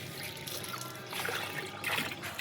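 Water trickles and pours steadily onto a bed of leafy greens, a soft continuous splashing up close.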